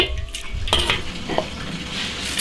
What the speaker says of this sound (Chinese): 起锅烧油，炒调料。